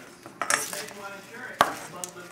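Seasoned chicken mixed in a bowl, a few close clinks and scrapes of a utensil against the bowl over soft handling sounds, with no talk.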